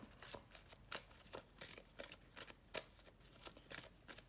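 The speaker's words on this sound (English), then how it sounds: "quick shuffle." A deck of cards for a solo Mars Rover card game gets a quick shuffle, a run of crisp riffling flutters and taps in fast irregular bursts, close and fairly quiet, with no voices.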